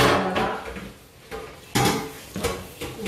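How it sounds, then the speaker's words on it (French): Pieces of chicken go into cooking pots in a home kitchen, making several dull clunks and clatters of pot and lid spread over a few seconds, with no talking. "je vais commencer à mettre mon poulet dans les casseroles"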